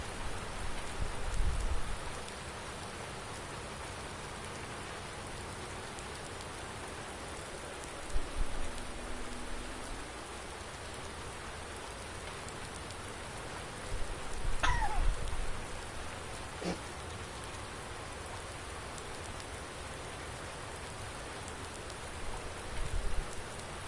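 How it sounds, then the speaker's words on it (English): Heavy rain pours down steadily in a dense, continuous hiss on a farm, with a few louder swells and faint distant rumbles, and no talking. "Oh, it's just raining like crazy here."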